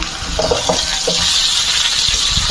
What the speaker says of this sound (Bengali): এরপর সব সবজিগুলো দিয়ে হলুদ, লবণ সব সবজিগুলোর সাথে মিশিয়ে নিলাম